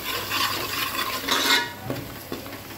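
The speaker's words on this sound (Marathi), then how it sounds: "आणि हे कांदा खोबरं आणि लसूण, आलं लसूणचं वाटप आहे आपलं. ते पण चांगलं तेलामध्ये परतून घेऊया आता." A paste of onion, coconut, garlic and ginger sizzles and is stirred in hot oil for a river crab curry, a steady close frying hiss broken by scraping spoon strokes against the pan.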